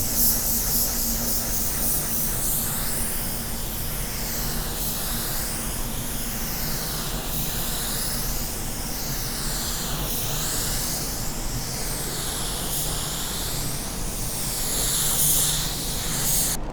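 Paint spray gun at about 20 PSI laying dark sealer undercoat onto car panels, with a loud continuous airy hiss that swells and fades in regular passes as the gun sweeps back and forth.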